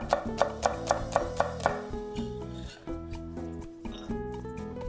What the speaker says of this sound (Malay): Untuk tumisan, ambil bawang putih. Kemudian iris nipis.